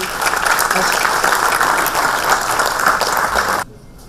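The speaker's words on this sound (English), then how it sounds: "a round of applause for our awardee" A crowd at an award ceremony claps steadily for a few seconds, then the applause cuts off abruptly.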